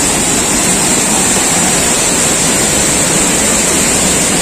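Lubuk Hitam waterfall with heavy flow, a loud, dense, unbroken roar of rushing water heard close and alone.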